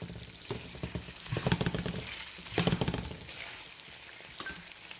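Food sizzles and crackles in a pan left on regular stovetop heat, a steady close hiss with a few louder bursts of spattering and no talk.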